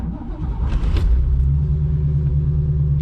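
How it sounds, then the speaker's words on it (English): A cold 1969 Shelby GT 350 convertible with a 4-speed starts up close by, a brief cranking surge settling into a deep, steady rumbling fast idle. "starts right up, fast idles."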